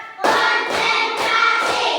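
A group claps together in a counted classroom ice-breaker game, four loud, close, evenly spaced bursts of clapping, each a quick flurry of many hands, with no talking.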